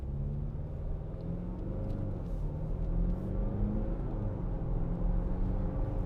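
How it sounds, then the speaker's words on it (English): 2018 Jaguar F-Pace 2.0d R Sport automatic AWD heard from inside while driving, a low steady diesel rumble and road noise with a smooth shift, the engine note dropping and settling gently with no jolt. "Nice smooth gear change."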